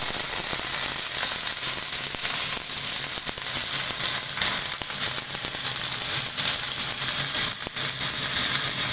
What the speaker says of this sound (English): I'm going to add some onion and green chili.